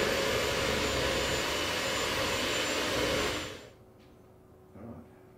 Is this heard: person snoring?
no